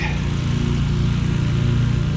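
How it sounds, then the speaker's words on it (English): A lawn mower drones steadily nearby as someone mows a lawn on a residential street, a constant engine hum with no break. "We got a guy mowing a lawn"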